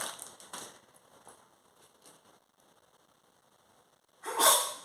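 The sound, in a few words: sneeze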